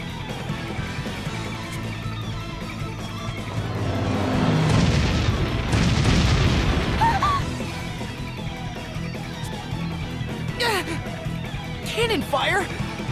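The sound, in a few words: cannon fire explosions in Bravely Default video game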